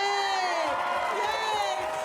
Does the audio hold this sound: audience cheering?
yes